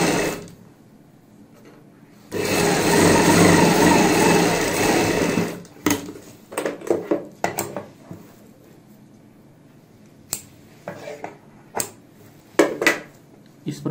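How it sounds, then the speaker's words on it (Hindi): A sewing machine runs in one loud continuous burst while stitching a fabric strip onto a box-pleat palazzo pant, then gives several short, stop-start runs with brief pauses between them. "इस प्रकार से फोल्ड करते हुए ऊपर से सिलाई लगा लेंगे।"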